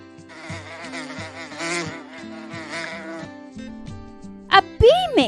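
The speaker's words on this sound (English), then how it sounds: "A bee makes that sound." A bee buzzes in a wavering, droning hum that rises and falls in pitch over several seconds, followed by a short, louder voice-like burst at the end.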